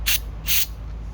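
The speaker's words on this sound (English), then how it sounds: "squirt a little Wonder Juice down in there, clean it out" Two short, sharp hissing sprays of Wonder Juice cleaner are squirted into a pressure washer's carburetor, close and loud, with a low hum in between.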